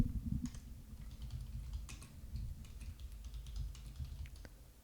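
Rapid, uneven clicking of keys on a computer keyboard, soft and close, continuing steadily throughout with no talking.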